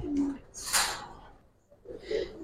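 A silver Giribaz pigeon coos softly and close by. There are a couple of short, breathy coos with a brief gap between them.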